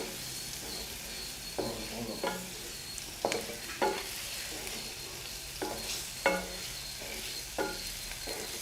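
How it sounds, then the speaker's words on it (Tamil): Egg masala frying in a pan is stirred, a soft steady sizzle broken by repeated scraping strokes of the spoon at an irregular pace, close up and quiet, with no voices. "லைட்டாக ஒரு கிளறி விட்டுட்டு அடுப்பை ஆஃப் பண்ணிடலாம்."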